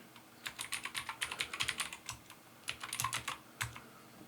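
A command being typed on a computer keyboard: a quick run of close, crisp key clicks lasting about four seconds, with brief pauses near the end and no talk.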